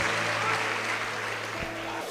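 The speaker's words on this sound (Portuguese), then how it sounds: "tomem o seu assento aplaudindo a Jesus" Church congregation applauding during a Portuguese-language service with a pastor, a continuous broad wash of many people clapping from a large hall, under a low sustained hum.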